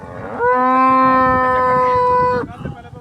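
A cow at a cattle sale in Punjab lets out one long, loud, close moo lasting about two seconds, with faint crowd noise before and after.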